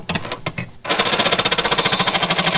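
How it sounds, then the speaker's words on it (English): A tool trims a bolt on a Chevy Nova: a few short bursts, then a loud, rapid, steady chattering grind that runs close and continuous to the end. "I'm doing a little trimming on this bolt here."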